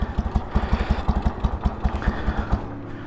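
A 1973 Harley Davidson Sportster engine fires up and runs with a rough, loping idle, its uneven thumping beats loud and close.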